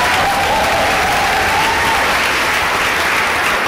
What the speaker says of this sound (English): Can you give her an applause?